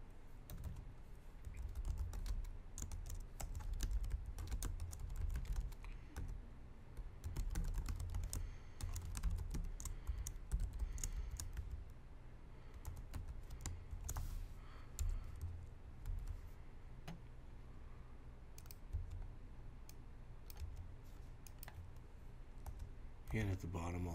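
Steady typing of Java code on a computer keyboard, a dense run of close key clicks lasting throughout against a low background rumble.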